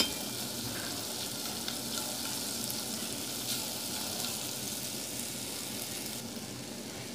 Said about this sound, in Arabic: انا حطيت التوم بتاعي، هبدأ اقلبه